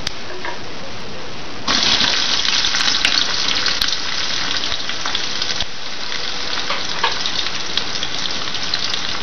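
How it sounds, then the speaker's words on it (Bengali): Chopped onion frying in hot oil with bay leaves and whole spices for mutton yakhni pulao, a dense hiss that jumps louder partway through and holds as a steady crackling sizzle, with no talking. "হালকা ব্রাউন কালার আসা পর্যন্ত এটাকে আমি ফ্রাই করে নেব"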